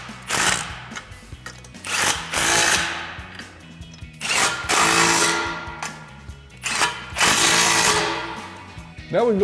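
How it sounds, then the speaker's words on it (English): A ratchet with a 15mm socket tightens the original front exhaust clamps on a 2018-2023 Mustang GT during a Corsa cat-back install. Close, repeated bursts of rapid mechanical clicking come about every two seconds. "we'll tighten that down using our 15mm socket"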